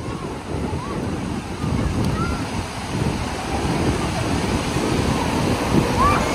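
Strong wind buffets the microphone while surf rolls steadily at a beach, a loud continuous roar of wind and waves throughout.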